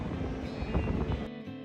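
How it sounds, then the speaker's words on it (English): Strong wind buffets the microphone on the open upper deck of the MSC Seaside cruise ship at sea, a steady loud rumbling roar that drops off sharply near the end. "Let's go quickly because it's very windy."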